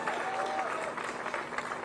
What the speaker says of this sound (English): Round of applause to these guys.